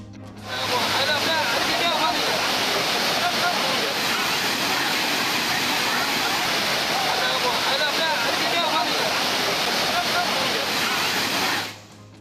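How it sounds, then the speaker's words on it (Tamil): Kumbakkarai waterfall gushes after continuous rain, a loud, dense, unbroken roar of falling water that holds steady for about eleven seconds before fading out at the end. "தொடர் மழையால் கும்பக்கரை அருவிக்கு நீர்வரத்து அதிகரிப்பு. ஆர்ப்பரித்து கொட்டும் தண்ணீரில் குளித்து மகிழ்ந்த சுற்றுலா பயணிகள்."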